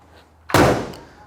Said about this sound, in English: Doors shut real nice, no problems there